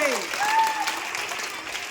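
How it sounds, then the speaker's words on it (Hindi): Clapping from a crowd at a street magic show, a short burst of steady applause with a voice over it. "ताली बजाओ, ताली।"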